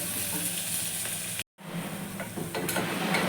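Ginger garlic paste and onion frying in a pan for a tomato rice dish, a steady, fairly close sizzle that stops for a split second and then carries on with some stirring.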